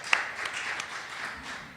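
A small audience at a panel discussion gives a short burst of light applause. A few scattered claps stand out at the start, then a soft patter fades within two seconds.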